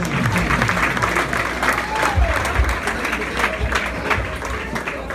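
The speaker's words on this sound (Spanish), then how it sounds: "Que se escuche fuerte los aplausos." Guests at a quinceañera party applaud loudly, continuous crowd clapping with some low thumps and murmur underneath, sustained throughout.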